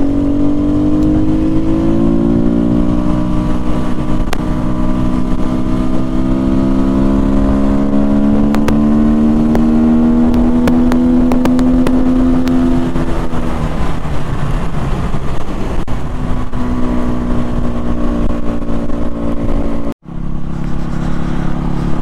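An SWM RS300R motorcycle ridden on a single-track country road, its engine droning steadily and loudly close up, pitch rising and falling through gear changes, with a brief cut near the end.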